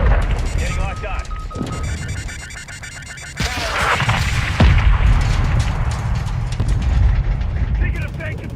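Heavy gunfire and an incoming missile in Call of Duty: Modern Warfare II, loud thudding blasts and bursts crowding a busy battle mix, with a sharp impact partway through and radio-style voices talking over the din.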